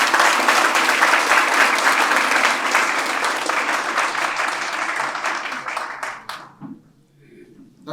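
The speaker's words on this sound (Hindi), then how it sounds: "मैं चाहता हूं कि हमारे बच्चे जोरदार तालियों से उनका स्वागत करें" A dense burst of audience applause welcoming a speaker to a lecture in Allahabad, loud and sustained for about six seconds before thinning out and fading, with faint voices underneath.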